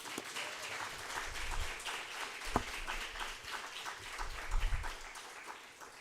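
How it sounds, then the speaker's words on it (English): An audience at a law school negotiation competition closing ceremony applauds the organizing committee with steady, moderately distant clapping that swells and fades over several seconds. "So a huge round of applause to the OC."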